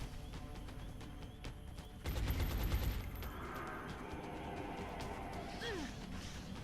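Muffled bursts of rapid gunfire from the XCOM Long War game, a louder volley in the middle over a faint steady background, with no talking.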